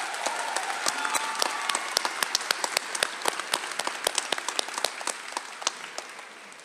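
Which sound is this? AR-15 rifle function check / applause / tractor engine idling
applause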